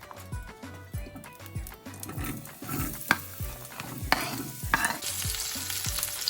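Potatoes fry in hot oil with popping mustard and cumin seeds for an aloo fry curry, a steady sizzle broken by repeated rhythmic scraping and stirring knocks in the pan, close and fairly loud.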